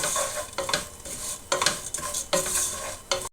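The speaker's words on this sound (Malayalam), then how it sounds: "നമ്മൾ ഇളക്കി കൊടുക്കുകയാണ്" A Malayalam-style curry of drumsticks, dried shrimp and lentils is stirred in a pan over low flame, giving repeated scraping strokes against a steady frying sizzle, close and with no voices.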